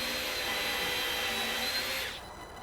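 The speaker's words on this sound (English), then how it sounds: "see if you can get a pilot hole in there" A power drill bores a pilot hole into porch subfascia while a rotted porch post is replaced, a steady high whine running for about two seconds before the motor cuts off and fades.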